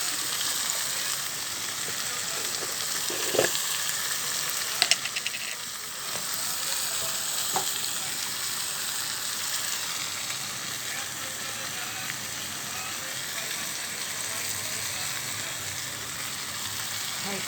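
Papaya frying in a pan with turmeric and salt, a steady close sizzle running throughout, with occasional scraping stirs and clinks rising above the constant hiss.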